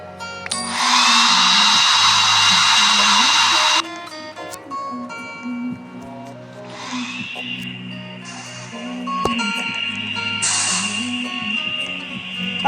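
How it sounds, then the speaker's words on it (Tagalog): Hair dryer blowing in a hot spring video game: a loud, steady whooshing whir with a high whine runs for about three seconds, then eases into a softer mechanical hum over background game music. "Blower ko buhok ko kasi basang-basa."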